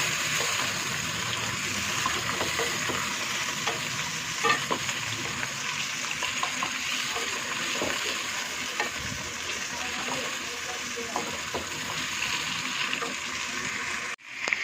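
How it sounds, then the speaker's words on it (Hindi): Chicken, about 700 grams, frying in a pan at home for karela gosht, with a steady close sizzle and crackle and occasional stirring scrapes running throughout, alone without talk. "इसको अच्छे से हम फ्राई कर लेंगे।"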